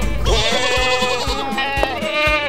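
Sheep bleating loudly and close, a long wavering bleat followed by a few shorter overlapping bleats.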